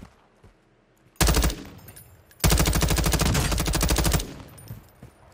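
Bursts of automatic gunfire in the Warzone video game: a short loud volley, a pause, then a longer sustained rapid-fire burst, with faint shots in the quieter gaps.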